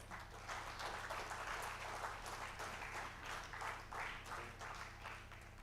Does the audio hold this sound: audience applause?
yes